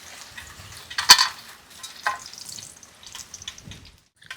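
Whole spices such as cinnamon dropped into hot oil sizzle and crackle, with one sharp burst followed by softer hissing and stirring noises close by.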